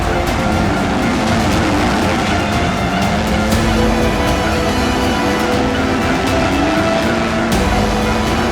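Yamaha and Suzuki motocross bikes surge off the start gate together in a race, a dense, loud, continuous engine roar from several machines with shifting revs throughout.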